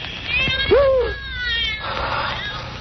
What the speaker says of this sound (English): The cat's come back to the island.